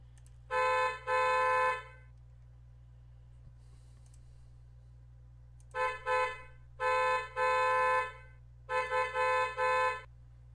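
Car horns honk in a traffic video game: two long blasts, then a pause, then a cluster of repeated honks of varying length over a steady low hum.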